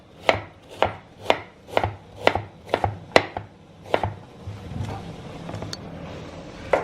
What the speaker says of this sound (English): you're going to chop it as small as you can